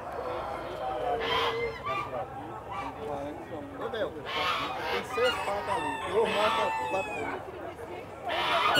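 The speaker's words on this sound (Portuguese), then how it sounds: "Tem as galinhas capoeira, pessoal." Capoeira chickens and roosters at a poultry fair, with roosters crowing and hens clucking at moderate distance amid busy market noise and people talking.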